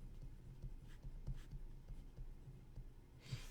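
A pen or marker writes out a math equation in short scratchy strokes at a steady rhythm, quiet and close, with soft breathing between strokes.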